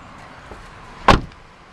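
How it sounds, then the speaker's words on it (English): The passenger door of a 2012 Infiniti QX56 gives a single sharp latch click and thump as it opens, close by in a quiet setting. "Opening up the passenger door"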